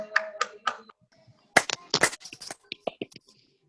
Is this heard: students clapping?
yes